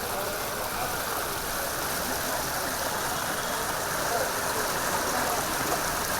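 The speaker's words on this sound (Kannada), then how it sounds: "ಎಲ್ಲಿ ನೋಡಿದರಲ್ಲಿ ನೀರೋ ನೀರು ಮನೆ ಒಳಗೂ ಕೂಡ ನೀರು ಹೊರಗಡೆನೂ ನೀರು" Floodwater from heavy rain in Udupi, Karnataka, rushes past in a steady, loud, unbroken roar of moving water that fills the scene from start to finish.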